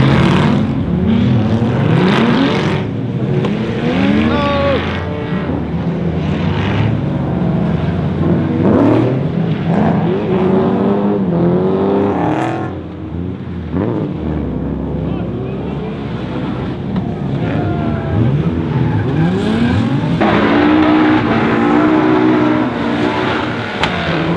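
Cars driving on the Meihan circuit track in the rain, engines revving and droning continuously with wind buffeting the microphone and faint voices at times.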